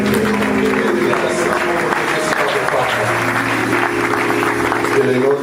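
A church congregation claps and cheers together after a prayer, a broad sustained wash of applause mixed with voices and acclamations throughout, fairly loud and close.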